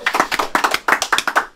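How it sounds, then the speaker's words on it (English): A small studio audience giving a short burst of hand clapping, close and fairly loud, with no talking. "Give him a round of applause, gang."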